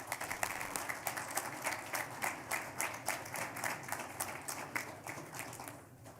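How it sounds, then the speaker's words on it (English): Applause for the Matadors at a school board meeting, a modest group clapping at a distance in rhythmic, slightly uneven bursts that fade toward the end, with no talking. "Let's give a big round of applause for the Matadors."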